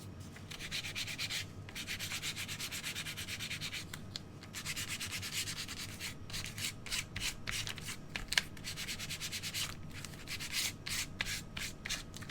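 Sandpaper is rubbed by hand over a painted furniture piece to distress it, in steady close scratchy strokes that continue throughout, with short rhythmic passes toward the end.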